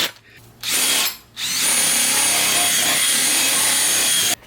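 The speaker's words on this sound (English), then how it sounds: "we might as well polish it up with some Mother's aluminum polish and their little power ball thing" A power drill spinning a polishing ball on an aluminum exhaust pipe whirs in two short bursts, then runs steadily for several seconds with a high, rubbing whine before stopping.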